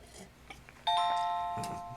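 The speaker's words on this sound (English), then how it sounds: "Wow, chimes. Neat." Door chimes ring once with a bright, sustained electronic tone that slowly fades, heard alone in a quiet room after a few faint background sounds.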